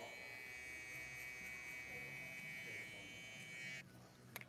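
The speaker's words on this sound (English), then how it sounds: "I have one other little spot over here I'm gonna hit with my trimmer." Electric hair trimmer buzzing steadily and close up during a barbershop fade haircut, a continuous whine that cuts off near the end, followed by faint handling noise.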